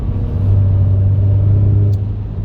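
A Renault Clio 4 RS engine growls with a steady low rumble, held loud and close for a couple of seconds with only slight rises in pitch.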